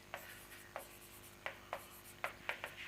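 Short scratchy strokes of a pen or marker writing on a board during an English grammar lesson, about eight quick separate marks in an irregular rhythm, close and fairly quiet, with no talking.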